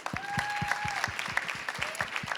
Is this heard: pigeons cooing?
no